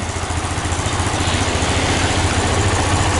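A Yamaha Fazer 250 motorcycle with a fuel pump refill fault idles steadily up close, a loud, even low thrum with a regular pulsing beat and no voices.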